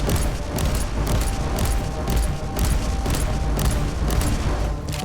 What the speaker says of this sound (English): Let's go ahead and use some of those frag rounds.